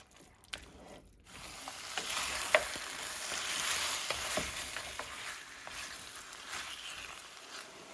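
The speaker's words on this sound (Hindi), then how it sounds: "इसमें ये पका हुआ गोश्त डाल लेते हैं। गोश्त को बहुत अच्छा इनको भून लेना है।" Cooked mutton frying and being stirred in a pot for white mutton korma: steady close sizzle with scraping spoon strokes, starting after a brief quiet moment and continuing throughout.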